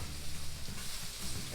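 Chopped pieces sizzle on a flat griddle alongside onions while pizza toppings are prepared, a steady close frying hiss with faint scraping and a little talk under it.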